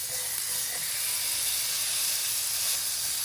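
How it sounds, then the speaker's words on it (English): Beef searing in a hot oiled pan at around 450 degrees, a loud, steady, close sizzle with a broad hiss that holds unbroken throughout, no voices. "we are not cooking our meat, we are just searing it."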